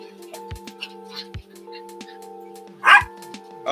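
A dog barks outdoors in several sharp, loud, separate woofs spread across a few seconds, with a louder yelp-like burst near the end.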